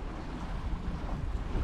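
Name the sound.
sailboat sailing on a beam reach in wind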